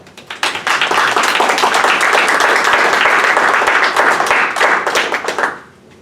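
Audience at a second degree black belt exam clapping, a full, continuous round of applause for about five seconds that fades out at the end, with no talking.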